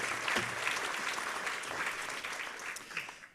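A crowd at the 2020 F1 in Schools Australian National Final awards event claps for the production team, a dense, steady round of applause lasting a few seconds with no talk over it.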